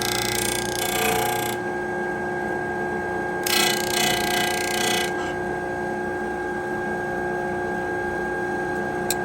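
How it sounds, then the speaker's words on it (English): Electric disc sander running steadily at close range in a woodworking shop, a continuous broadband whir with brief louder surges as the abrasive disc meets the wooden peg, no voices over it. "I'm going to start the disc sander"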